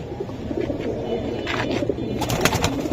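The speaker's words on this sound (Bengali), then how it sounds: "কঠিন জিনিস দোবাচ কবুতর একদম ভাই।" Dobach pigeons coo in soft, low, throaty bursts, with a few sharper chirps and flutters toward the end, heard close against a steady background murmur with no one speaking.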